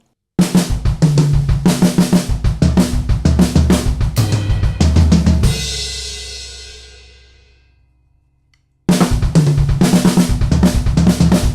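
A drum kit plays a slow-tempo fill of single strokes and doubles on the toms and bass drum, loud and close, then a cymbal rings out and fades into silence before the pattern starts again.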